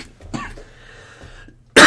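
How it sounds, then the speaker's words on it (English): A single Minecraft-style cough sounds near the start, short and fairly loud, then a quiet gap before a burst of noise at the end. "And I got a cough."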